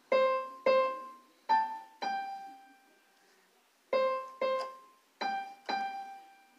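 A keyboard plays the opening notes of Twinkle Twinkle Little Star: two pairs of clean single tones, a pause, then the phrase repeated, each note decaying clearly in a quiet room.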